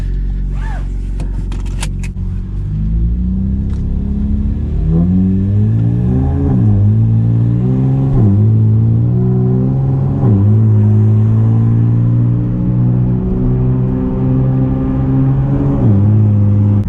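A car engine revs up through repeated rising and falling sweeps while driving, loud and close from inside the cabin, with a steady rumble beneath and a few clicks at the start.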